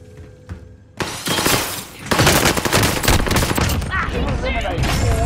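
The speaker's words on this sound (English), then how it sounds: "Throwing grenade!" A grenade thrown and detonating in a squad-based first-person shooter, a sudden loud blast followed by a chaotic burst of gunfire and battle noise, with player voices talking over the continuous din.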